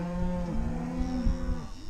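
Cattle low in a long, deep moo that rises and sags in pitch, close and loud against a faint outdoor background on a farm where a set of cows is being moved, with no one talking.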